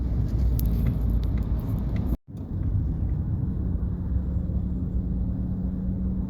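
A car driving on a road in traffic, heard from inside as a steady, loud low rumble of engine and road noise that drops out briefly once and then carries on unbroken.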